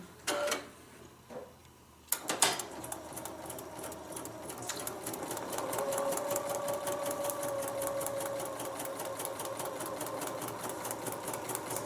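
A domestic sewing machine stitches fabric for small bags, starting after a couple of brief clicks and then running steadily with a rapid, even mechanical patter close to the mic, no talking over it.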